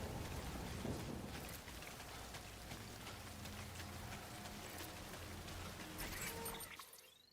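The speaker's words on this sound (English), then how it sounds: "it's raining pretty good." Rain in the video game Death Stranding, a steady dense patter and hiss of falling drops that holds even for several seconds before fading out, with no talk.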